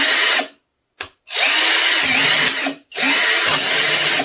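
A cheap 12V cordless drill whirs loudly in high gear, with a short burst, a brief stop, then longer steady runs. The motor noise is close and harsh, with quick pauses between triggers.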